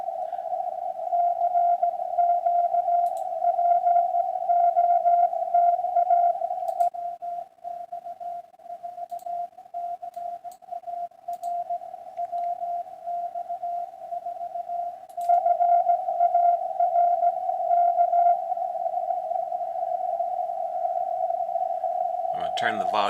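Amateur radio signal received during a Parks on the Air hunt, a steady continuous tone that holds near-constant, dips and weakens in the middle as it fades, then recovers before a brief burst of noise at the end.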